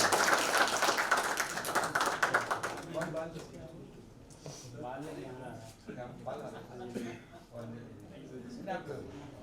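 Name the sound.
audience clapping at song launch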